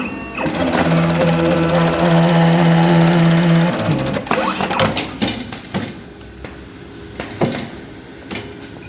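An industrial JUKI APW 896N automatic welting machine sews a pocket welt with a loud, steady mechanical whir and hum for several seconds, then shifts into irregular clacks and thumps as the cycle ends.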